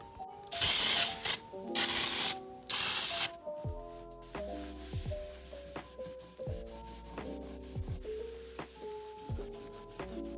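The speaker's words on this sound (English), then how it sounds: "I'm gonna use this glass and surface cleaner, and I'm also going to use this right here, which is an all-purpose lemon scented cleaner" Lemon-scented all-purpose surface cleaner sprayed in three quick, loud hissing bursts, followed by wiping and rubbing over a surface with light knocks and squeaks.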